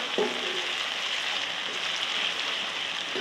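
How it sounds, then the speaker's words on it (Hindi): Crushed garlic and ginger fry in hot oil in a home kitchen, giving a steady, even sizzle with a faint clink of a utensil near the start. "और लहसुन अदरक के पेस्ट को भी भून लेती हूँ तकरीबन 1 से 2 मिनट।"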